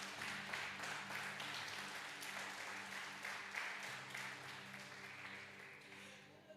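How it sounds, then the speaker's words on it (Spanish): A church congregation applauds for several seconds, clapping that is faint and distant, with a continuous murmur beneath it. "Denle un aplauso al Señor."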